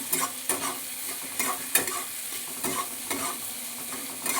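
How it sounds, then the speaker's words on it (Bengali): Potatoes with onions and chopped capsicum fry in a pan under a constant sizzle, broken by a rhythmic scrape of stirring roughly every half second, close and clear with no voices. "এগুলো দিয়ে এবার ভালো করে ভেজে নেব ভালোভাবে পেঁয়াজের সঙ্গে একসঙ্গে ভেজে নেব"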